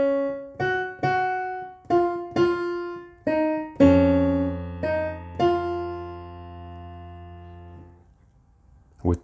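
Solo piano plays part three of the chorus of a song, about eight clear struck notes and chords in a long-short rhythm, a low left-hand note ringing underneath, fading to near silence before a final soft sound.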